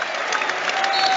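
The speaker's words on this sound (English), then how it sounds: "But you can hear plenty of them here are applauding him as well in the stands too" Football stadium crowd at a Premier League match between Brentford and Manchester United applauding a departing player from the stands, a steady, dense wash of clapping throughout, loud and close with no clear voices standing out.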